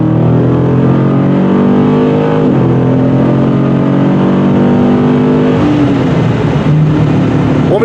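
A 2023 Dodge Challenger 392 SRT rumbles loud and close along back roads, its big V8 droning steadily with rising and falling revs as it shifts and accelerates, no talking over it.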